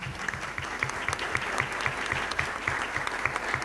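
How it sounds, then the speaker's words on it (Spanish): Applause from a church congregation after a speaker is introduced, steady dense clapping with a regular rhythmic pulse throughout, fairly loud and close, with no talk over it. "un aplauso pues para el hermano"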